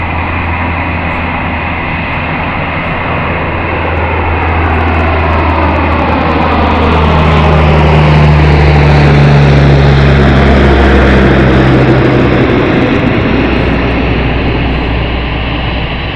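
A Boeing 747 takes off on runway 33 at Anchorage airport in Alaska, a loud, heavy jet roar that builds and sweeps through a changing engine whine, peaking midway before easing off.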